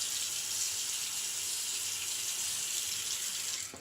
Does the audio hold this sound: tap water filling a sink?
yes